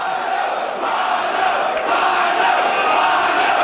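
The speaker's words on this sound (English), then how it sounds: "Listen to this crowd!" A wrestling event crowd roars and cheers continuously, loud and dense, swelling slightly toward the end.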